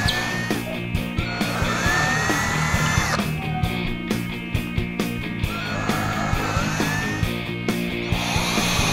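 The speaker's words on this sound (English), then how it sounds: "drill out each individual hole that you plan on putting a toggle strap in" A power drill bores holes in a wall for toggle straps while mounting a flat screen TV, its motor whining steadily with rising and falling pitch, loud and close, with grinding and knocking through the material.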